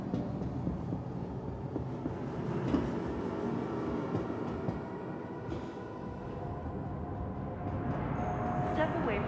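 A train approaching the platform edge at Lorville in the Star Citizen game, a broad rumbling whoosh that swells and shifts, with a voice faintly present beneath the noise.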